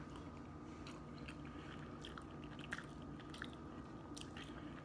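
Close, steady chewing and biting on a piece of Cuban-style chorizo, soft wet crunches and squishes repeating through quiet room tone, with no talking.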